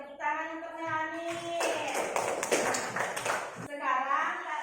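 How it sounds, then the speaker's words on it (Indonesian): A classroom of students clapping for a classmate, a couple of seconds of scattered, moderately loud applause between stretches of a teacher speaking. "tepuk tangan untuk Melani"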